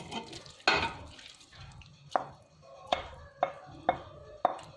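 Cut chicken pieces dropped into a thickened sauce in a pot, followed by a series of sharp spoon knocks and clinks at a steady rhythm, close and fairly quiet, with no talking.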